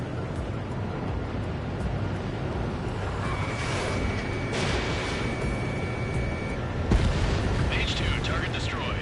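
Explosion of an anti-air radar vehicle in Ace Combat 7, a heavy rumbling blast within continuous jet and combat noise, with radio chatter over it.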